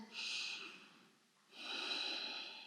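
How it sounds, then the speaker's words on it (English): Slow, deep breathing during a restorative yoga session: one long airy inhale followed by a brief pause and an equally long exhale, close and soft, with no talking. "Breathing in and breathing out."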